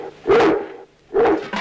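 A cartoon dog from a 1971 Czech animated film by Břetislav Pojar barks twice, with two loud, close yaps separated by a short pause.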